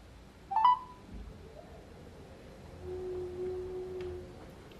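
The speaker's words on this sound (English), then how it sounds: "I'm trying to call my other phone" Phone call being placed from an Android phone to another phone: a brief tone burst near the start, then a sustained low steady tone drifting through the middle, faint and alone with no talk.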